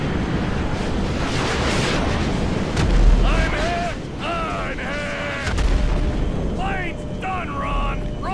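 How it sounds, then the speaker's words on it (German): A crop-duster plane blows up in GTA 5, heavy rumbling blasts around the third and fifth seconds over a constant roaring wind-like wash, with warbling tonal game sounds drifting above. "Gleich macht's wieder Boom"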